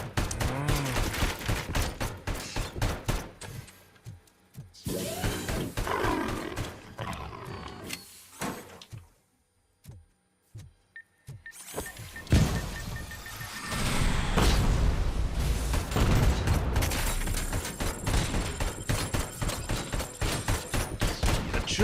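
Gunfire in the RoboCop: Rogue City video game: loud bursts and rapid volleys of shots between quieter gaps, with a cluster of sharp single shots midway, then heavy, sustained action noise.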